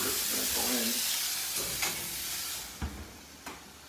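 A burger patty dropped into a hot salted and oiled pan sizzles loudly, a dense steady hiss up close with a few soft clinks and scrapes, no voices.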